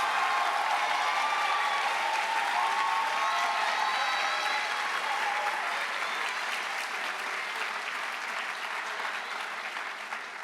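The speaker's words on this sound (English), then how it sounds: "Please give a round of applause for our cum laude students" Sustained applause from a high school honors convocation audience for cum laude students, dense and steady throughout, with some cheering mixed in, gradually tapering slightly toward the end.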